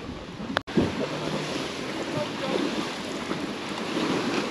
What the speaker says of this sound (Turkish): Yine dalgalı sayılır.